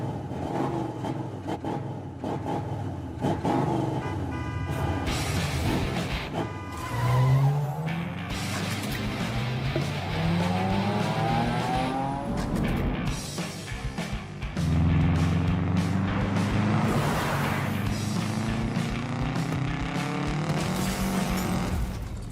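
Hot Wheels racing video game cars roar and skid through loops and jumps, with engine tones rising and falling steadily for over twenty seconds and tire squeals layered over a loud, continuous mix.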